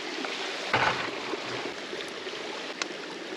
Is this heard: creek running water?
yes